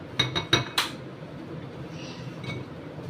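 Pistachios poured into a dish while making healthy laddus give four sharp clinks and rattles in the first second, then only faint room noise remains.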